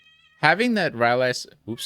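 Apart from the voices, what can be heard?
cat meowing in the background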